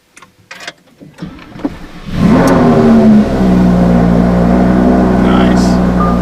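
A car engine revs up sharply and settles into a loud, steady throaty exhaust drone, after a few brief knocks and sounds at the start.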